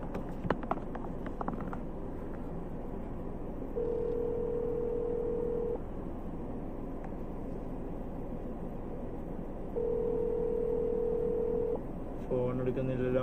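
Phone call ringing unanswered: two long, steady ringback tones repeat with a pause between them, heard faintly over low background hiss before a voice starts talking.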